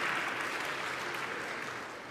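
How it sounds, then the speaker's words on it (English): Faint, steady audience clapping at a church service, a soft wash of many hands from a distance with no talk over it. "Clap for him."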